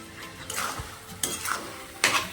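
Grated carrot halwa with jaggery is stirred and roasted in a pan: three quick scraping sweeps of a spoon against the metal, close and fairly soft, with faint sizzling between them and no voices.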